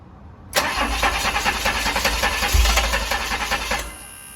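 A DeLorean with Bosch Jetronic fuel injection cranks on a cold start without firing, the starter churning steadily and loudly for about three seconds before cutting off.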